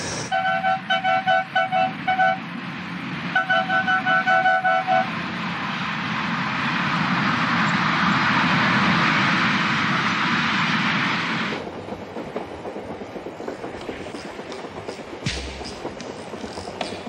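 A Zambezi Express train in the African bush rolls along the rails, heard through an open window: an early horn-like tone, then a swelling rumble that fades into lighter clattering, with no talk.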